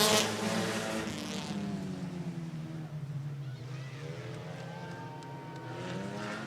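Open four-cylinder sprint cars racing at Sunset Speedway, several engines revving and droning together at a distance, pitches sliding up and down as the field circles the track, moderately loud and continuous.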